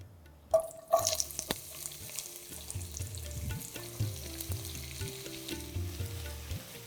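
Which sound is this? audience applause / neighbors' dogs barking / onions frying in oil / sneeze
onions frying in oil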